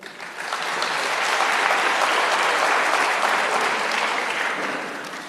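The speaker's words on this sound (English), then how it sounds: "give a round of applause to the neighborhood watchers, to the patrollers of the area" A crowd at a ministerial crime prevention imbizo in Knysna, Western Cape, claps for local neighborhood watchers and patrollers, the applause swelling to a full, sustained roar and then easing slightly toward the end.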